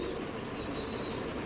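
Pigeons in a breeding loft coo softly over a steady low murmur of background noise, with a few faint chirps and no talking.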